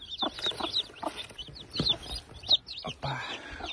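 A hen clucks softly while her newly hatched chicks peep in high, rapid chirps close by in a small coop.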